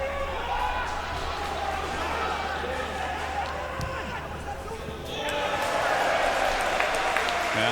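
A football stadium crowd in a Bundesliga-style match roars and murmurs steadily at a distance, swelling louder toward the end, beneath a commentator's talk.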